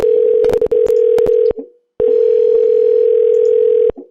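Steady telephone dial tone sounds loud and close, interrupted by quick dialing beeps and clicks, breaks off briefly, then resumes as a continuous tone before cutting out.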